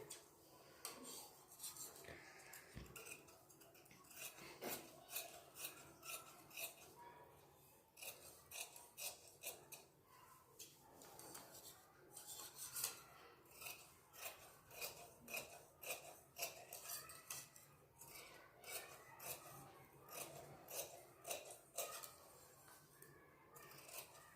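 Scissors cutting blouse fabric, a quiet, rhythmic series of snips and crisp shearing strokes repeating steadily, with faint rustling of cloth between cuts.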